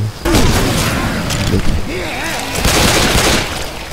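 Video game explosions and gunfire roar as a dense, loud barrage of booms and crackling bursts filling the whole stretch, with rising and falling tonal game sounds mixed underneath.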